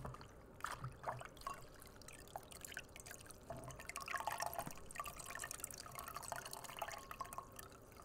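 Cool water dripping and trickling from a compress in a quiet ASMR men's shave and facial setting, with scattered close drips and soft splashes over a low steady background.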